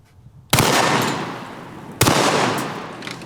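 Two loud, close shotgun blasts from a tactical over-under shotgun firing at a sporting clay on a steel clay popper, about a second and a half apart, each sharp report trailing off into a long echoing decay outdoors.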